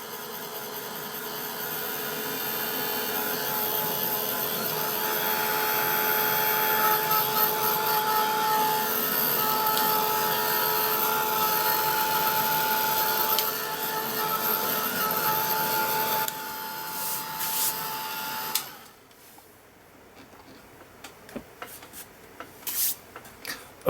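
A heat tool blows hot air to dry blue paint on an art journal page, a loud steady whirring roar that runs for about eighteen seconds and then cuts off, leaving faint handling clicks and taps.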